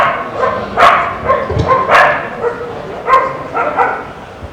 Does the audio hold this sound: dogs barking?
yes